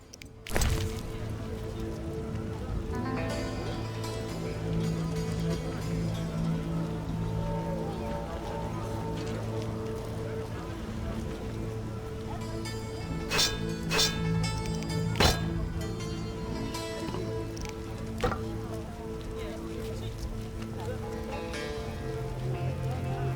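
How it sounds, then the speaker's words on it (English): Steady rain falling in The Witcher game world, a dense continuous hiss of drops spread across the whole clip, with ambient game tones and faint music layered underneath and a few sharper spikes near the middle. "Hasn't rained hard in a while. It rains and it pours."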